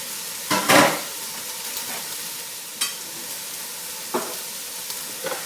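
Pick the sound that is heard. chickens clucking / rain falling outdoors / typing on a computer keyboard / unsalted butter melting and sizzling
unsalted butter melting and sizzling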